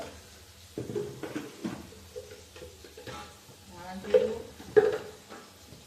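Tomato masala with chili powder, turmeric and kasuri methi being stirred in a pan: soft scraping and faint sizzling, with a few louder utensil clinks, under a person's speech.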